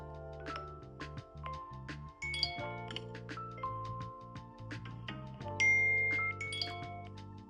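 A series of short chiming iPhone alert tones and tinkling notes, quiet and shifting from one melody to the next.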